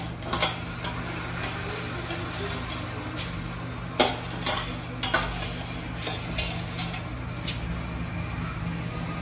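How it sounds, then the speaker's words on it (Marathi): Masoor lentils stirred into cooked potato curry in a pot for lentil biryani, with scattered scrapes and spoon knocks over a steady low kitchen hum and soft sizzle. "हा मसूर मिक्स करून घेते"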